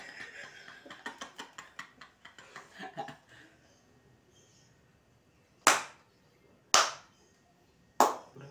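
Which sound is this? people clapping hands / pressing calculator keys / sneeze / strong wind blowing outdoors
people clapping hands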